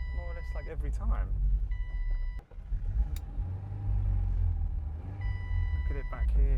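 A Ford Escort, started after roughly twenty years off the road, idles steadily as it warms up, a close, constant low rumble that carries on under intermittent voices.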